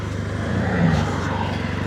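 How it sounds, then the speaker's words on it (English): A car drives past on a road, its engine noise swelling to a peak midway and then easing off as it moves away. "I'll wait for this car to get past"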